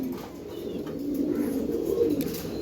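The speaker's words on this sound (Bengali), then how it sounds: "এটা ছাড়াছাড়ি লাইনের এক পেয়ার কবুতর ঝাঁক কবুতর" Giribaz flying pigeons, a pair of the chharachhari line, coo softly and steadily in a low murmuring drone, close by and continuous with no talk.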